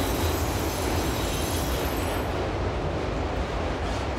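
A long freight train loaded with new automobiles rumbles across a rock viaduct near a power plant, a loud continuous roar of wheels and cars with occasional squeal, easing slightly toward the end.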